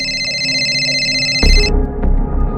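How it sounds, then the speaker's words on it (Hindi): Incoming call on a mobile phone, a steady electronic ringtone with sustained tonal layers that cuts off abruptly partway, leaving a low rumble and a soft blip. "एक और कॉल ने उसके फोन के स्क्रीन में दस्तक दिया।"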